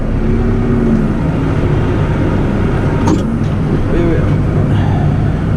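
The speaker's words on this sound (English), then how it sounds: "struggling to push the harvester back uphill there now on the bank we've got" A tractor, its front-loader bucket full of gravel for ballast, strains to push a potato harvester uphill on a bank in Pembrokeshire, a loud, unbroken engine drone filling the whole stretch.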